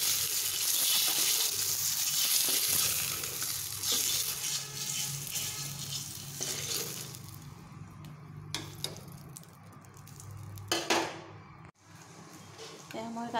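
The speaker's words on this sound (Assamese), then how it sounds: "এতিয়া কণীটা ফ্ৰাই কৰি আছো" An egg frying in hot oil in a pan while cooking an Assamese potato and egg curry, giving a steady, loud sizzling hiss throughout, with a few brief clinks near the end.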